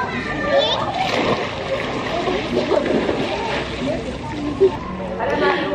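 Children jump into a swimming pool, making scattered splashes and sloshing water amid excited kids' voices and chatter.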